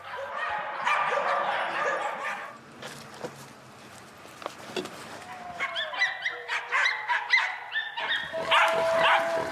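A pack of purebred and mixed-breed hunting dogs on a big-game drive hunt bark, yip and whimper in a dense, overlapping chorus, some close and loud, others farther off, continuing without letup.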